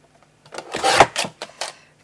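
A sheet of foil paper for card making is cut in a few quick, crisp bursts: a close scraping slice with short pauses, then a final short snip, all alone with no talking.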